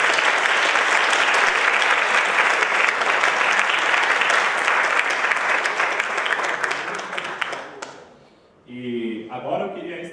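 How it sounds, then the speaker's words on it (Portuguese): Sustained applause from an audience at a Brazilian panel event on modern media and freedom of information, dense and steady for about eight seconds before dying away, followed by a voice speaking. "queria pedir primeiro uma salva de palmas para o Dr."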